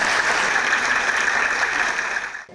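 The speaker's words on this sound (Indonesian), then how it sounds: "boleh berdiri Prof. Aryawan, kita berikan aplaus yang meriah" Loud, steady applause from a studio audience at a televised talk show, filling the whole stretch before tapering off at the end.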